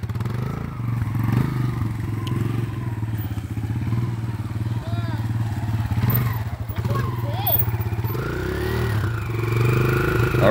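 A dirt bike engine with electric start runs steadily close by, a low continuous putter that swells slightly as it revs, while people talk over it.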